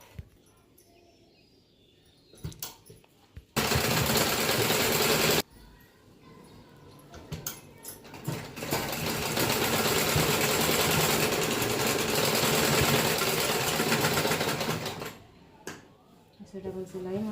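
A sewing machine double-stitches a blouse seam, with a short loud burst and then a longer steady whirring run, close by, with a voice talking before and between the runs.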